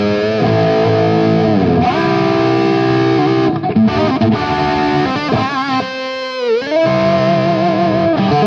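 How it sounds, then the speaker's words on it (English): Electric guitar run through a distortion pedal with a dirty, gritty gain tone, a loud sustained riff of chords and bends, played alone with no talking. "This is a kind of a dirty sound. Again, I can control the amount of gain I have on it."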